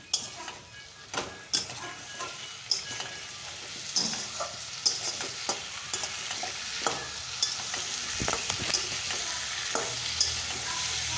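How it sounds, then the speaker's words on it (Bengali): Spice paste for a tilapia and cauliflower fish curry fries in the pan under steady sizzling, while a spatula stirs and taps the pan in repeated scraping strokes, close and fairly clear. "মশলাটা কিছুক্ষণ ধরে আমি কষিয়ে নিলাম।"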